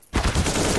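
Enemy gunfire in a shooter video game, a sudden loud burst that starts abruptly and keeps rattling on as a dense rapid volley.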